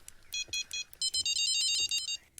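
An electronic carp bite alarm in the video game Fishing Planet beeps in quick bursts, then runs into a longer stuttering string of high tones, with faint background noise beneath.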